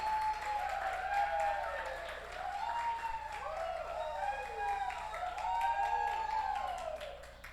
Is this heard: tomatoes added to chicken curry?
no